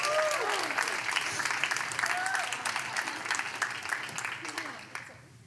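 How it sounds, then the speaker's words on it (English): A crowd applauds steadily for several seconds, dense clapping filling the room, with a few voices and cheers rising above it before it fades. "Can we give Jenna a round of applause?"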